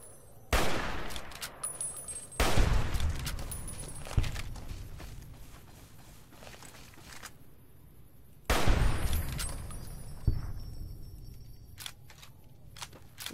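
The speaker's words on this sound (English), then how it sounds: "this hunting rifle is really, really overpowered for them" Hunting rifle shots in Fallout: New Vegas, several loud sharp reports spaced seconds apart, each followed by a decaying tail and quieter game ambience between them.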